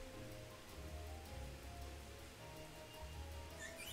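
Steady rain falls in the Pokemon Isle of Armor game, a continuous even hiss of drops with a low rumble beneath, constant from start to finish with no talk.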